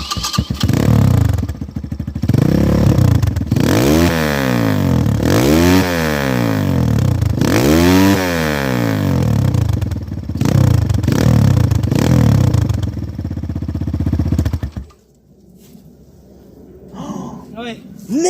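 A Big MMIX 250 motorbike engine revs hard and repeatedly, loud rising and falling blips close by, before dropping to a quieter idle near the end, with people talking over it.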